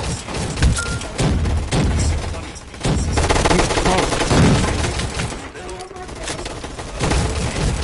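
Dense, loud bursts of rapid gunfire in a game, crackling volleys and booms that keep going with only brief gaps, close and harsh throughout.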